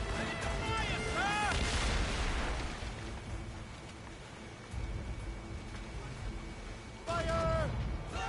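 Ship cannons firing during a naval battle in Assassin's Creed Rogue: heavy booming blasts roll out over a rumbling background, with shouted voices between the shots.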